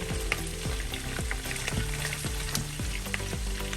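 Sliced onion hits hot oil while honey mustard pork ribs cook, giving a loud, steady sizzle with scraping stir strokes and clacks from a utensil in the pan, and no talk over it.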